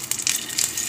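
Onions fry in oil for a Tamil egg gravy, giving a soft, close, continuous sizzle with a few faint crackles and no talking.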